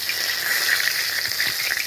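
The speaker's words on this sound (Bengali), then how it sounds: "কড়ার মধ্যে জিরে দিলাম, জিরে ফোড়ন, শুকনো লঙ্কা, তেজপাতা, এইগুলো দিয়ে দিলাম" Cumin seeds, dried red chillies and bay leaves tempering in hot oil in a kadai for aloo dum, giving a steady, close, loud sizzle and crackle that holds level throughout with no talk.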